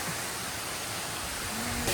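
Kabaragala waterfall in Sri Lanka: a steady, dense rush of falling water roars without pause, close and even throughout.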